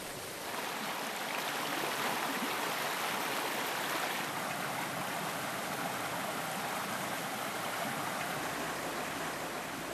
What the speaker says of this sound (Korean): 이렇게 물소리가 큰 계절에